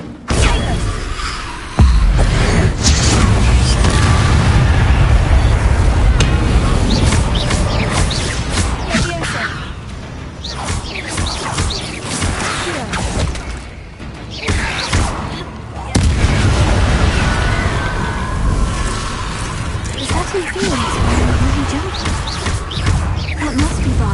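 Fiery spell explosions from the Incendiary charm in the Hogwarts Legacy video game, a dense run of loud booming blasts and crackling bursts that roll on for many seconds, with speech faintly present in the mix.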